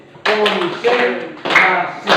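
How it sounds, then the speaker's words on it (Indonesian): Group clapping game tepuk konsentrasi, several sharp bursts of hands clapping together in a rhythmic pattern, loud and close, with voices chanting along between the claps. "Dimulai dengan kita tepuk tangan, tepuk konsentrasi"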